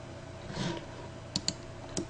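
A few sharp computer mouse clicks land sparsely against a quiet room hum, three or four crisp taps spaced irregularly and heard close with no talking.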